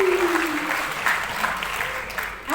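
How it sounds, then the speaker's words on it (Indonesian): An audience applauds at a literary award ceremony, a steady wash of clapping with a voice briefly audible at the start. "Tepuk tangan."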